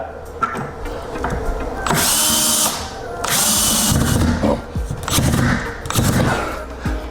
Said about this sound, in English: I'll put another screw on this other stud.